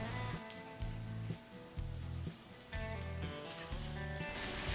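A karandi omelette, egg cooked in a small ladle, sizzles softly and steadily up close, with a low rhythmic humming pulse running underneath the frying.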